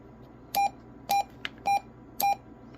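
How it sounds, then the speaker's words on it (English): A K-PO DX5000+ electronic device beeps four times in a steady rhythm, short clipped tones over faint background noise. "Turn that annoying beep off."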